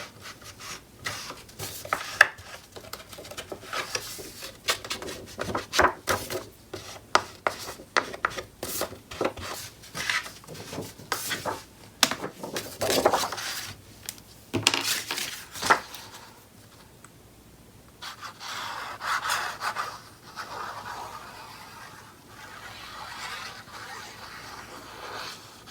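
A scrapbook paper page being trimmed from 8 by 8 down to 7 7/8 inches, with repeated rasping strokes of a trimmer blade sliding along the paper, close and fairly loud, then lighter scraping toward the end.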